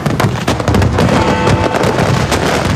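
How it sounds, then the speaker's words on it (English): New Year fireworks burst over a large celebrating crowd in the UK, with loud, dense, overlapping bangs and crackles rolling continuously without a break. "large crowds and spectacular firework displays"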